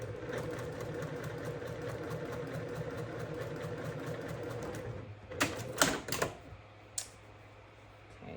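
A sewing machine stitches two pieces of quilting fabric together for a spider block, running as a steady, even, close mechanical whirr for about five seconds before it stops, followed by a few sharp clicks and handling sounds.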